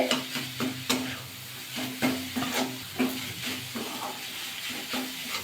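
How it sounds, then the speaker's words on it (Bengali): Jaggery mixture for gokul pithe sizzles in a pan as a spatula stirs it without pause, giving rhythmic scraping strokes close up over a low steady hiss. "আমি অনবরত কিন্তু নাড়াচাড়া করছি গুড়টাও কিন্তু মিশে যাচ্ছে"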